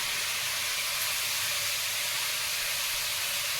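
Dried chillies fry in a pan, giving a steady, even hiss of hot oil that runs unbroken and close, with no voices over it.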